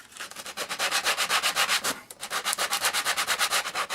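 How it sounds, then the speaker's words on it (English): Rough sandpaper rubs back and forth across wood in quick, even strokes, a steady rasping rhythm with one brief pause midway, close and clear with no talk. "a rough sandpaper is better than a smooth one"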